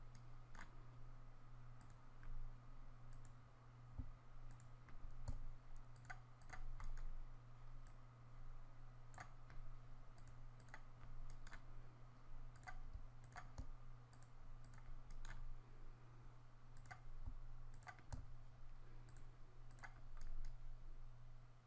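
Rapid computer clicks and keyboard taps sound while working in 3D character-skinning software, a steady run of small, sharp, close ticks over a low constant hum, with no talking.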